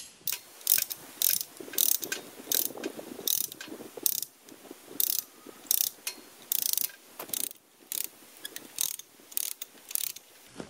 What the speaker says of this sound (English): Let me get this tightened up here real quick.